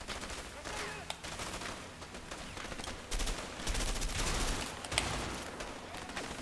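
Burst-fire rifle shooting in the co-op game A Way Out, with quick clusters of shots and sharp cracks over a busy firefight, mixed with faint talk.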